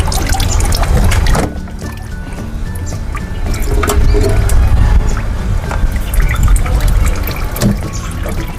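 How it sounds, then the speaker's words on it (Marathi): Water pumped by an electric motor gushes and trickles steadily into a household tank, a continuous loud splashing and pouring that runs alone throughout. "वरचं मोटर लावते मी"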